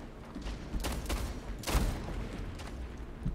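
Shots from a shooter video game, two or three loud muffled bursts of gunfire over a rumbling game background, with no talking.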